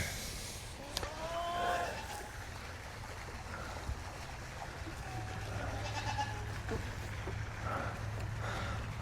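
Sheep on a farm bleat a few times at a moderate distance over a low steady hum and background noise, with soft scattered sounds in between.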